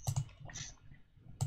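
Quick bursts of computer keyboard typing during an online call, a few clustered keystrokes at the start and again at the end with a quieter gap between, close to the mic.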